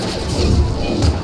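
A Mass Effect 2 explosion lands as a heavy, rumbling crash with low booming thuds. It sustains at a loud level for just over a second, and noisy debris-like clatter is mixed through it.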